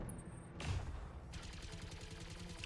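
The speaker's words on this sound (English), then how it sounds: "Oh, it machine gunned my poor little Locust." Rapid machine-gun fire rakes a Locust mech in the Battletech video game, a dense stuttering burst that opens with a sharp thump and then rattles on steadily, close and moderately loud.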